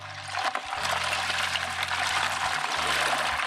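Hot brine and ice for curing ham are stirred together, a continuous watery swishing with low clunks of ice bumping the container, close and fairly quiet.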